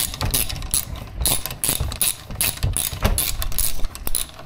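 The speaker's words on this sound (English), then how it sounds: "I'm going, just going to tighten all the bolts now" A ratchet clicks in short, repeated bursts while bolts are tightened on a Yamaha 70 hp two-stroke outboard during an impeller replacement, close up with brief pauses between strokes.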